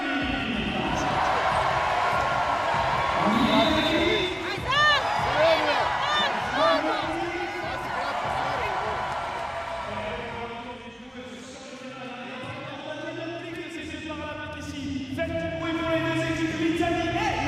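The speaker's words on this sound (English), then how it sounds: "Faites du bruit si vous êtes de l'équipe de Slovénie" Arena crowd at a Paris 2024 sitting volleyball classification match cheers and roars loudly throughout, swelling in waves with whistles and shouts, while an announcer's voice carries over the noise.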